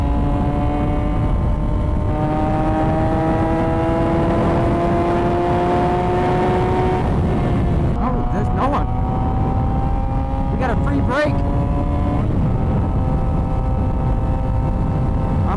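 A 2006 Yamaha R6 sport bike engine screams at high RPM while riding, with rising harmonic pitch through the gears, brief dips at downshifts and steady loud wind and engine roar throughout.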